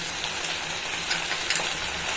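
Mashed boiled potato stuffing sautéing in a pan, with a steady broadband sizzle and soft stirring scrapes running continuously and fairly quietly throughout.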